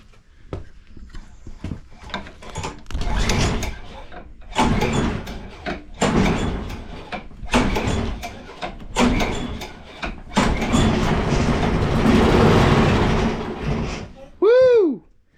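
A Craftsman push mower being pulled to start after a shot of starter fluid, several rough bursts of cranking and sputtering that never catch, with a person talking between pulls and a brief whistle-like tone at the end.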